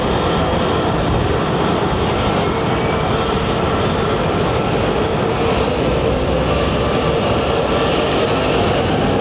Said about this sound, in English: this is a very successful aircraft, isn't it? The A330-900